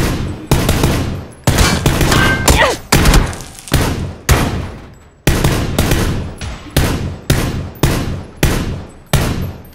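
M416 rifle fire in a shooter game rings out in repeated loud bursts, about a dozen sharp volleys in quick rhythm, close and punchy with short pauses between.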